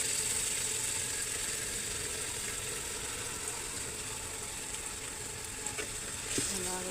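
Beef from a sacrificial cow frying in a pan with ginger, spices and garlic, a steady close sizzle with faint stirring and scraping toward the end and no talk.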